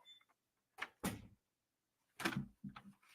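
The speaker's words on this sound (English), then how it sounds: "Close the door." A door swings shut with a couple of knocking thuds, followed a moment later by another firm close and a rattle, fairly near and loud with quiet gaps between.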